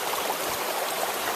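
Sloshing, rushing water as hiking boots wade through a shallow stream, a steady close-up wash of water noise over a short stretch with no talk.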